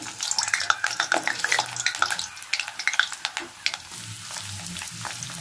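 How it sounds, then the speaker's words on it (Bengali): Potato pieces fry in hot mustard oil in a wok, a steady crackling sizzle broken by rapid clinks and scrapes of stirring, with no voices. "এবার আমি আলুগুলো ভেজে নেব এক এক করে"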